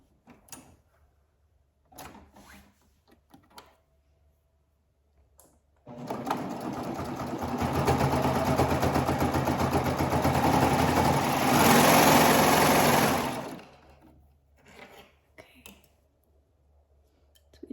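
After scattered soft clicks and handling sounds, a sewing machine runs a bodice seam on a gathered peplum dress in one loud continuous burst of about seven seconds, then stops, and quiet handling noises resume.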